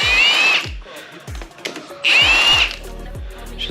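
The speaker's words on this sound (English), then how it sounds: "Just loosening all these bolts up." Power tool whirring in two bursts of about half a second each while loosening bolts on a Kawasaki KZ900 motorcycle under rebuild, with tapping and clatter between bursts.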